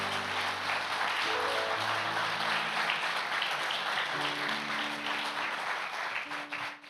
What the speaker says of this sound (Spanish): Dele un aplauso al Señor por su palabra.